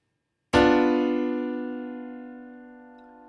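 A single diminished chord struck once on a keyboard, tense and uneasy, ringing out and slowly fading over a few seconds in otherwise quiet surroundings.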